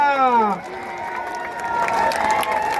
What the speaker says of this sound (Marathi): वा ताळ्या पाहिजे टाळ्या